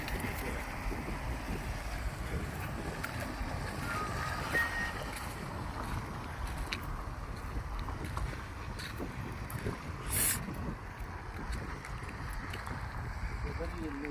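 A boat engine drones steadily over rushing wind and water on a river among hills near Bhadrachalam, a constant low rumble throughout with wind buffeting the microphone.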